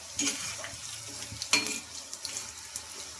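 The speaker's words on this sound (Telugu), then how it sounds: "మనకు బాగా క్రిస్పీగా వచ్చే వరకు అయితే ఆయిల్లో బాగా ఫ్రై చేసుకోవాలి" Snack pieces frying in hot oil until crispy, stirred now and then; a steady close sizzle with scattered scraping knocks and small bursts, no voices.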